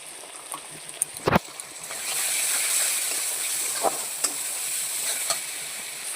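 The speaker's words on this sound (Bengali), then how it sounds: "সুন্দর করে আমি মশলাটাকে একটু কষিয়ে নেবো ভালো করে" Spice masala with tomato sizzles and fries in a pan, a steady close hiss that swells after a sharp clack of a utensil, with occasional spoon taps as it is stirred.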